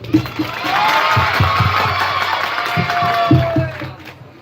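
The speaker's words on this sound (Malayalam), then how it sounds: "നല്ല കയ്യടി കൊടുത്ത എല്ലാവരും" A crowd at a public event cheers and claps, a loud, close swell of voices and shouts lasting a few seconds, with a voice rising above the noise.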